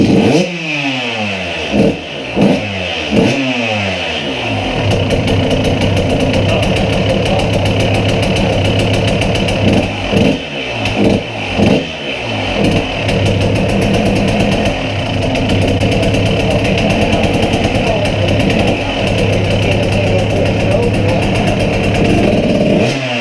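A KTM 125sx two-stroke dirt bike engine revs sharply in repeated bursts, then settles into a loud, steady high-rpm drone with a few brief throttle dips, close up and without talk.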